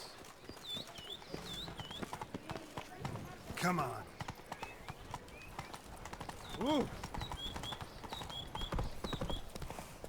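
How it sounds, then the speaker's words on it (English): A horse clip-clops along at a trot in The Witcher 3: Blood and Wine, with steady hoofbeats and two loud whinnies, while birds chirp nearby and someone speaks briefly. "Let's call our horse."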